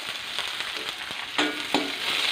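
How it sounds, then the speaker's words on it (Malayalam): Green chillies, garlic and curry leaves fry in oil for lemon pickle, a close, steady sizzle with two sharper bursts of spitting and crackle partway through, no voices. "എല്ലാം ഒന്ന് മിക്സ് ചെയ്യാം. ചെറുതായിട്ട് ഒന്ന് മൂത്താൽ മതിയാകും."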